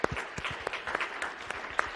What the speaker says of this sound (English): So if you can give her a big round of applause.